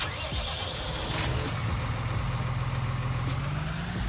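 A tractor engine in Farming Simulator 19 turns over and settles into a steady low idle, fairly quiet, with a faint whine rising at the end.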